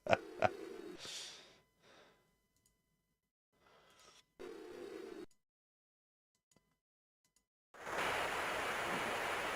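Applause in a Commodore Amiga video game comes as short hissing bursts of noisy clapping separated by silence, ending in a longer, louder wash of crowd clapping.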